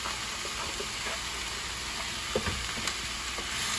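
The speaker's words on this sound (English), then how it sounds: "Now throw in the mushrooms. Let those start cooking." Mushrooms, shrimp and vegetables frying in a pan, a continuous dense sizzle close up with occasional small taps and clicks from stirring.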